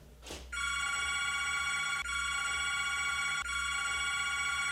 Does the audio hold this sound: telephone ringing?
yes